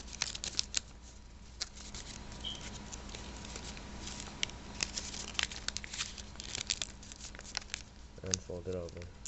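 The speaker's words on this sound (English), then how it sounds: "Then fold this flap that's crossing the center over." Paper being folded into an origami wildflower box gives soft, close crinkles, creases and taps throughout, with a voice speaking briefly at the end.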